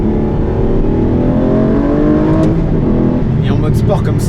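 The V12 engine of an Aston Martin V12 Vantage S in sport mode roars loudly and steadily, its rising drone continuous throughout, with a person speaking over it near the end.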